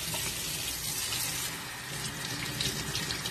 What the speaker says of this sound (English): you want to rinse these things and just give them a good rinse